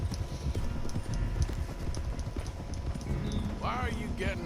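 Horse hooves clip-clop steadily at a walking pace in Red Dead Redemption 2, with a voice speaking over the rhythmic footfalls and a few brief chirping sounds near the end.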